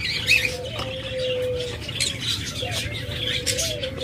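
A pair of lovebirds offered for sale chirps and tweets close by, with bright high calls over a continuous background of many other caged birds chattering.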